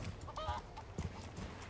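Honking, clucking poultry calls from a chicken in the Resident Evil 4 Remake video game, a few short squawks over a low rumbling game ambience.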